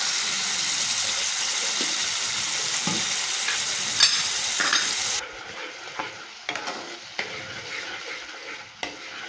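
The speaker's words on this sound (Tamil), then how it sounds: "இப்போ கொஞ்சமாக தண்ணி ஆட் பண்ணிக்கிறேன்." Water is added to a sizzling tomato masala gravy for roadside kaalan: a loud frying hiss fills the first half, then drops away, leaving a quieter simmer broken by scraping spoon strokes.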